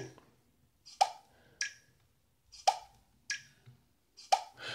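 A phone fingerprint sensor on an Elephone A8 makes soft, short plopping clicks in quick pairs, repeating several times against near silence.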